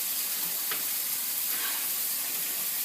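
Chinese noodles stirred in a hot frying pan give a steady, even sizzle with a couple of soft scrapes from the stirring.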